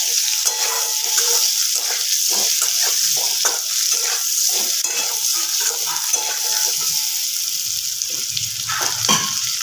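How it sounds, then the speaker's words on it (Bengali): Potato and cauliflower pieces with turmeric fry in a little leftover fish-frying oil in a pan, a close, continuous sizzle layered with the scrape and clatter of stirring. "এবার এগুলো আমি একটু ভেজে নেব। একটু লাল করে ভেজে নেব।"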